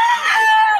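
A rooster crows at a chicken market in Bocaue, one short, loud call lasting under a second.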